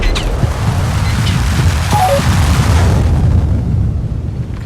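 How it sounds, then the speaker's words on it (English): A tank's ammo rack detonates in World of Tanks on a Škoda T 50, giving a loud sustained rumbling blast with crackling bursts that slowly tails off. "And you could hear the explosion of the rounds, and that was just too sweet."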